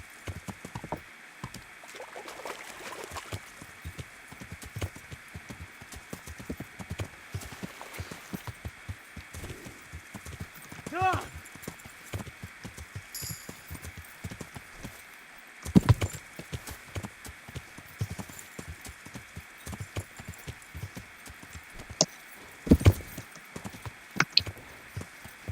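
Horse hooves clip-clopping in the medieval video game Kingdom Come Deliverance, a steady, fairly quiet trotting rhythm of repeated hoof falls with a few louder thumps along the way.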